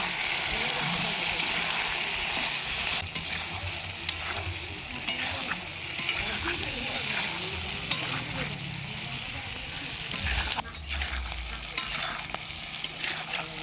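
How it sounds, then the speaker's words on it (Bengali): Chicken and onion for a spicy desi chicken curry stir and fry in a pan, a steady loud sizzle with repeated scraping stirs throughout and a brief burst of heavier frying near the end. "5 মিনিট পর ঢাকনাটা উঠিয়ে আরও অল্প নাড়িয়ে চাড়িয়ে ভালো করে কষিয়ে নেব।"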